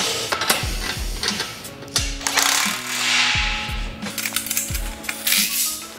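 Ratchet wrench lightly tightening bolts at the base of a Bells of Steel Hydra four-post steel power rack, with rapid clicking bursts repeated several times and metallic clunks between them, close and fairly loud.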